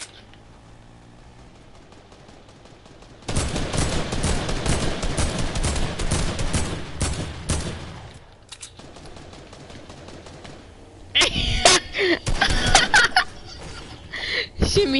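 Gunfire in a video game, a long sustained stretch of rapid automatic shots up close, then a brief lull with people talking and laughing before further loud, choppy bursts.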